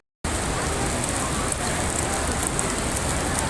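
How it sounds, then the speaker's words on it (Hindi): Rain falling in Medina, a steady dense hiss of drops on surfaces that starts abruptly and continues evenly, close and moderately loud, with no talking. "हमें मदीना में बारिश भी नसीब हुई थी"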